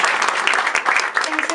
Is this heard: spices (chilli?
no